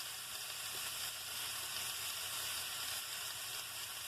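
Pork ribs sear in a hot pan with a steady, even sizzle that carries on without a break, close and alone.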